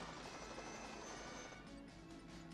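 A Huey helicopter in the 1986 film Short Circuit, a faint, steady whirring rotor and engine drone that holds for the whole stretch.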